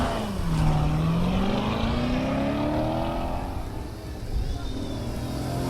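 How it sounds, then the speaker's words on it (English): A race car with a manual gearbox accelerates hard from the start of its opening run at the Sandhills Open Road Challenge, engine pitch climbing steadily through the gear, loud and continuous, with a commentator talking over it. "Todd getting ready for his opening run here at the Sandhills Open Road Challenge."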